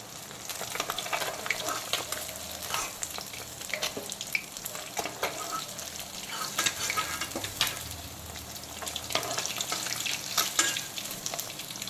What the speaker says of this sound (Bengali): বাকি লবণ হলুদ মাখানো পার্শে মাছগুলোকে আমি তেলের মধ্যে দিয়ে দিচ্ছি